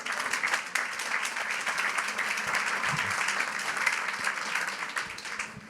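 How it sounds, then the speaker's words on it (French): An audience at a talks event applauding, a dense, even wash of many hands clapping at moderate distance that runs steadily throughout without voices on top. "merci pour vos applaudissements"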